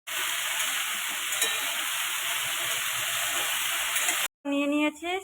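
Green chillies dropped into hot mustard oil give a loud, steady sizzle that runs unbroken for about four seconds, then cuts out briefly before a burst of voiced sound at the end.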